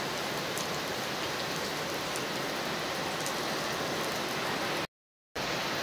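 Heavy monsoon rain pours down steadily in the Konkan countryside, a dense, unbroken hiss of water close by, briefly cut off by a moment of silence near the end.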